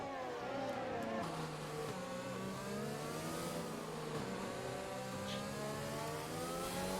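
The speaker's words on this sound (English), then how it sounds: "You can just tell by the engine noises how those drivers are being so careful on the throttle through these twisty corners of Sector 3." F1 race cars in the F1 2020 PC racing game at the Russian Grand Prix, engines revving and easing off through twisty corners, pitch rising and falling in repeated sweeps, steady and fairly close.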